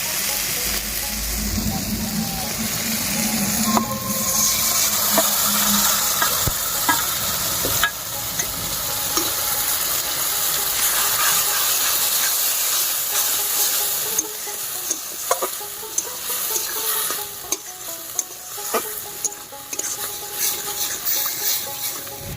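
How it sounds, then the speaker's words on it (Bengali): Pointed gourd (potol) paste sizzles in a hot pan while being stirred, a continuous frying hiss broken by scraping spoon strokes and occasional clicks against the pan, loud and close throughout. "এবার পটল বাটাটা দিয়ে দিব।"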